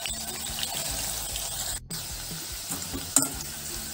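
Bitter gourd fries in oil in a pan, with a continuous close sizzle and bubbling, a brief dropout and a few light clinks as pieces are moved about.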